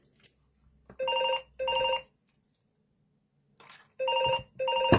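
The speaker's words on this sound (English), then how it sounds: "the phone's ringing and I don't know who it is" A telephone rings indoors in a home, two double bursts of trilling bell tone separated by a pause of silence, clear and moderately loud.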